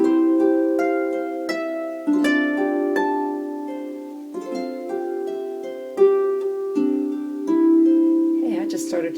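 A double strung harp plays a gentle Christmassy tune, its plucked notes ringing and overlapping in a lush, sustained texture, close and clear, with a brief rustle at the end.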